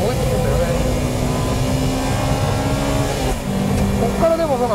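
A Honda Integra Type R DC2 with its VTEC engine running hard down a straight at Ebisu circuit, a loud sustained engine roar with pitch climbing through the gears, heard alongside people talking.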